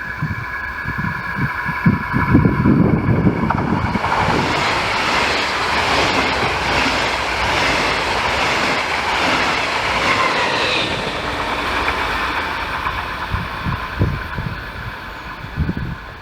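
A classic 1957 E40-002 electric locomotive and its train pass close by, with a loud, steady rolling roar, rhythmic clickety-clack of wheels over rail joints and a swelling rumble mid-passage.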